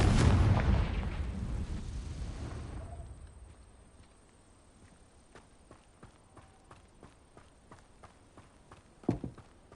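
A Confringo explosive spell bursts in Hogwarts Legacy, a loud booming blast that rumbles and fades over a few seconds, followed by scattered faint clicks and one more sharp hit near the end.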